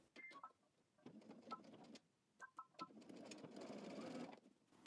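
A sewing machine stitches jacket binding, including backstitching, in short stop-start bursts of whirring and clicking that end in a longer continuous run, quiet and close with no voices.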